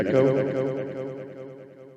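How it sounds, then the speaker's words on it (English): Echo effect on a Mackie ProFX10 GO battery-powered mixer: a single loud tone repeats in quick, evenly spaced echoes that decay steadily over two seconds. "Here's the echo."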